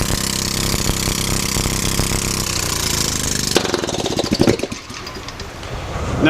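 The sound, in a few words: hydrogen-fueled engine running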